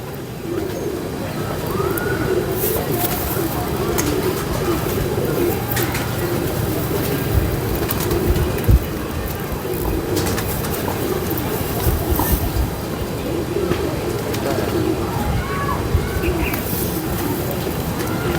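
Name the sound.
pigeons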